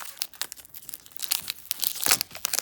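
Wax packs of 1992 Topps baseball cards being torn open, the gumless wrappers crinkling and ripping in quick bursts that grow louder toward the end, with no talking.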